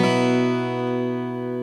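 An acoustic guitar chord strummed once on five strings, with the low E left out and the top two strings ringing open, sustaining alone and slowly fading over under two seconds.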